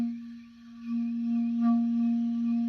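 Clarinet held on one sustained note with a too-tight, biting embouchure, giving a thin, pinched steady tone at moderate level with a slight wobble in the middle, heard alone.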